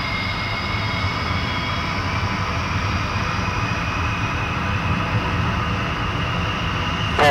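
Lockheed SR-71 Blackbird jet engines roar steadily and loudly at close range as the throttles come up, a continuous broadband rumble with a high whine that holds without break.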